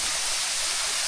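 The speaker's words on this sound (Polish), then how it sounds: "Idziemy w pobliżu jakiegoś wodospada i będziemy pod tym wodospadem przechodzić" A jungle waterfall roars up close as a dense, unbroken wash of falling water, loud and even throughout, with no voices over it.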